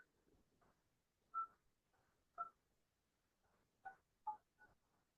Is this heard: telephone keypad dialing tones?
yes